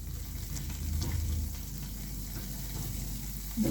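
Steady oily sizzling and crackling of onion potato-dough buns frying in oil, continuous and close, with no talking.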